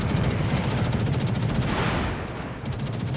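Heavy cruiser guns firing in World of Warships, the Furutaka, a dense continuous barrage of booming and rattling shots filling the whole stretch, loud and close, dipping briefly near the end before resuming.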